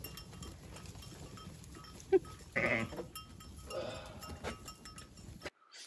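Goats being brought down by a neighbor near a house in Italy, with a couple of short bleats at moderate distance over a quiet outdoor background with faint rustling.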